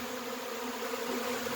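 A honeybee swarm moving in around a person, a dense continuous buzzing hum from many bees close by, steady and unbroken with no voices.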